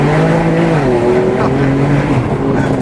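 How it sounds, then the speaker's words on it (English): A 700-wheel-horsepower BMW M3 accelerates hard from inside the car, its engine note rising loud and close through the gears, with voices faintly present. "my guy over here in the 700 wheel horsepower plus M3 wants to give me a quick ride"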